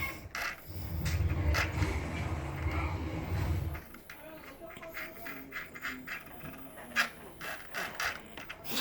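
Throttle servo on a Hangar 9 P51 RC plane whirring and clicking in short mechanical bursts, close by, with a heavy low rumble early on and then lighter intermittent ratcheting ticks.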